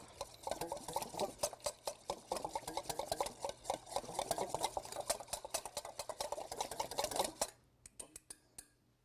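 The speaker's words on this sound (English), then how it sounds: "So I'm just gonna whisk these together." A whisk beats salad dressing in a bowl with rapid, steady metallic clicking and tapping for several seconds, close and fairly soft, ending in a few scattered taps.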